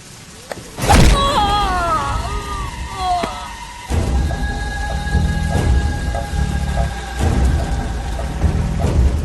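Heavy rain pours steadily in a Telugu drama film scene, broken early by a loud, close thunderclap, with the downpour continuing throughout under faint tonal sounds.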